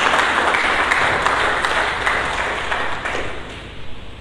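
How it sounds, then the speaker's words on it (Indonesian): A church congregation breaks into loud, sustained applause that fills the room and tapers slightly toward the end. "Mari kita berikan tepuk tangan bagi Yesus Kristus."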